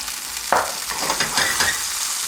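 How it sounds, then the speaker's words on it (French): Shallots and tomatoes fry in a little olive oil in a pan, giving a steady hiss and crackle. A sharper sizzle bursts in as they are stirred, followed by scraping and bubbling. "j'ai mis une poêle, un petit peu d'huile d'olive. Je mets les échalotes, les tomates."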